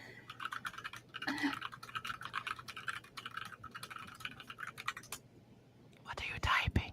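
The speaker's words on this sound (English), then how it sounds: "What are you typing?" Soft, quick computer keyboard typing in rapid bursts, close and quiet, with whispering voices over it.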